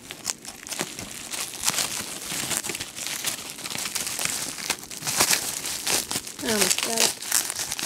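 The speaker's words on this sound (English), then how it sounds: "It's in a lot of bubble wrap." Bubble wrap and tape being pulled and crinkled off a small tripod package, with steady close crackling and a few sharp tearing bursts, while a person talks throughout.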